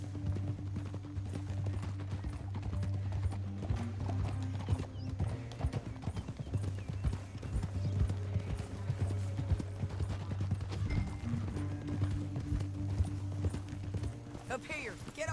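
Horse hooves clop rapidly in a steady galloping rhythm in the video game Red Dead Redemption II, with a low rumbling hum and voices beneath.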